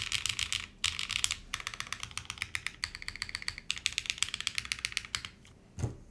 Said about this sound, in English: Everything else sounds delicious.